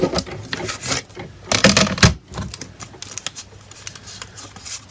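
A paper-cutting machine slices paper heart shapes with rapid, clattering mechanical taps and buzzing runs, loud and close, rising in busy bursts with brief pauses between passes.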